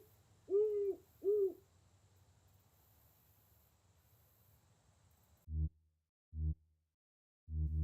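A large owl in the Colossal Cave game gives two short hoots, then a few heavy low thuds follow after a pause, over a faint steady hiss.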